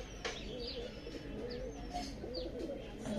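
Red-bodied Amluk pigeon, restless and fluttering, giving a few soft coos and chirps close by, faint and with no talk.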